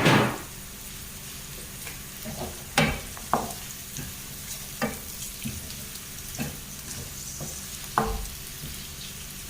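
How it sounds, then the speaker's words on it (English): Green beans sizzle and fry in a pan for fried rice, a steady close crackle broken by several sharp clanks and scrapes of stirring. "Next the green beans. And then allow it to fry for like,"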